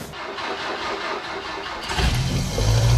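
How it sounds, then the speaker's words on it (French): A small Renault 4L car engine cranks and catches, then settles into a steady low rumble, loud and close after a stretch of hissy background noise. "le bruit caractéristique de la 4L, la première, on la tire et on avance"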